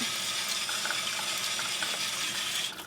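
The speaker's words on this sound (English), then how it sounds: "All right, and that's our water wheel." Water pours steadily over a homemade water wheel in a spring STEM activity, a close, continuous splashing rush that fades out near the end.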